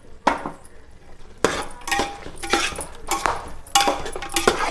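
Masala with ginger paste for a mutton curry is stirred in a metal pot and a lid is set on top: loud, close bursts of metal scraping and clinking come in four clusters, with no talk.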